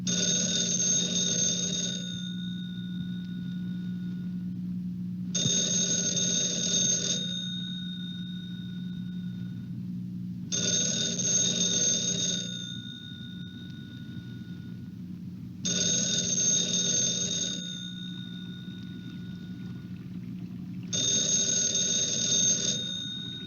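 A telephone rings in five evenly spaced bursts with short silent gaps between them, each ring bright and electronic over a low steady hum, no voices.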